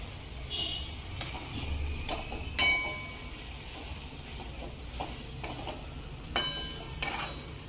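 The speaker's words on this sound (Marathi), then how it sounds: "याला मंद आचेवरती चांगलं गुलाबी, थोडंसं म्हणजे गुलाबी नाही, थोडंसं फिकट गुलाबी होईपर्यंत भाजायचे" Grated wet coconut roasting in a pan over a low flame, with a soft steady sizzle and occasional scraping stir strokes at close range, no voices.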